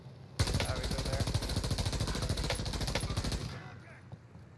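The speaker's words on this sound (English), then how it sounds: "Hangar's shooting at us, Bill" Rapid automatic gunfire in the Warzone video game, a loud sustained burst of evenly spaced shots lasting about three seconds before tapering off, with a voice briefly audible under it.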